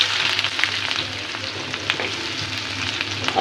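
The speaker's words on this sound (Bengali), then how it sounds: "তো দেখেন আমাদের কড়াইতে তেল দিয়ে দিচ্ছি, মরিচটা লয়ে গেছে। এবার আমি রসুনটা ডালুম" Garlic sizzles and fries steadily in hot oil in a wok, a close, continuous crackling hiss with faint stirring scrapes throughout and no talking.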